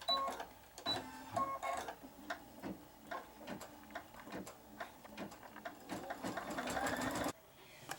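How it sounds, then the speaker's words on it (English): An embroidery sewing machine stitching out the placement line for a heart, a fast, steady mechanical ticking and clatter up close, with a few higher beeps near the start and a sudden stop near the end. "the first thing that's going to sew out is the placement line for the heart."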